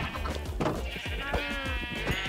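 Sheep in the video game Minecraft bleat several times in quick succession, loud and close, with game background noise underneath and no talking.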